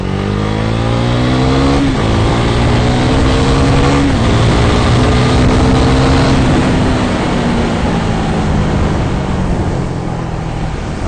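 A Husqvarna Vitpilen 401 motorcycle accelerates hard, its single engine climbing in pitch through several gears with brief dips at each shift. The engine sounds loud and close, wrapped in strong wind rush.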